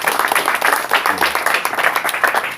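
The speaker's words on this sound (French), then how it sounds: "Applaudissons pour le Seigneur." A congregation claps together in church, a dense, steady patter of many hands filling the space at moderate loudness with no clear pauses.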